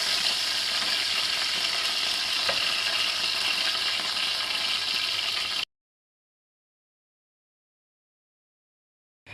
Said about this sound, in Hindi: जो बाकी के कबाब हैं वो भी हम फ्राई कर लेंगे